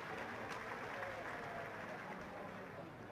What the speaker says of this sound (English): Ripple of applause from the fans inside the stadium